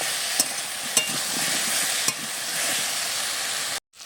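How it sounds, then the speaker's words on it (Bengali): Taro sautéed and stirred in a pan gives a steady broadband sizzle, with a few sharp scrapes of the spoon against the pan, then a sudden cut to near silence at the end. "নেড়ে চেড়ে কচুটা এবারে কষিয়ে নেব"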